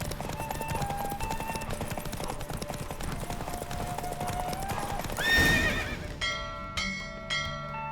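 In The Witcher 3, rapid hoofbeats of a galloping horse in a race pound steadily beneath music, followed by a whinny and ringing bell-like tones near the end.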